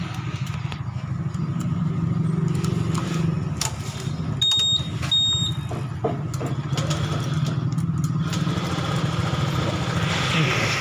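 Honda PCX motorcycle engine idling steadily during fuel injector cleaning with Autofit injector fluid, a continuous low rumble held at moderate loudness throughout with faint background speech.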